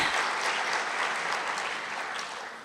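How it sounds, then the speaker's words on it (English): An audience claps in a dense, sustained burst of applause that starts at full strength and slowly fades toward the end, with no talking over it. "round of applause."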